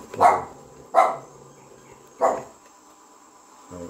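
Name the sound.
dog barking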